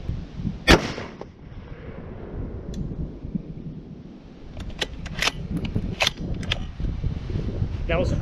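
A Remington 700 PCR rifle in 6.5 Creedmoor fires at 100 meters, one sharp loud report early followed by fainter distant cracks over outdoor background noise.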